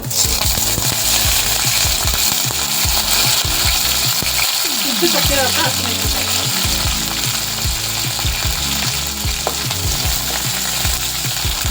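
Mustard seeds and curry leaves sputter and crackle loudly in hot oil for a potato filling for masala dosa, with dense continuous sizzling and sharp popping, close up and without talk.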